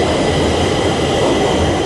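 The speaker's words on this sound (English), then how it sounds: "there's a train coming." Subway train at Stockholm's T-Centralen station, a steady loud rumble of rolling carriages with a continuous hiss filling the platform, sustained and close throughout.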